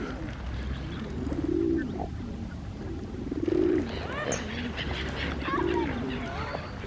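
Pigeons cooing in Queens Park in January, soft low coos repeating every couple of seconds over steady outdoor background noise, with faint other bird calls mixed in.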